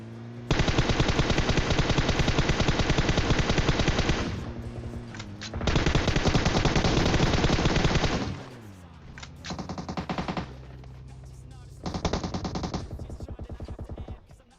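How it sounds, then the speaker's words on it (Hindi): Rapid automatic gunfire from PUBG Mobile, several long sustained bursts and shorter ones separated by brief pauses, loud and close with no talk over it. "मैं गोलियां बर्बाद करता हूं"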